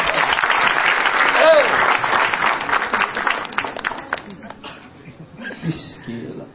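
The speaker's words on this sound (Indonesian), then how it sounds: "kita beri tepuk tangan untuk komik selanjutnya, ada Cak Lontong." Sustained applause from a stand-up comedy audience, dense clapping that gradually thins and fades over several seconds, with a few voices and laughter mixed in.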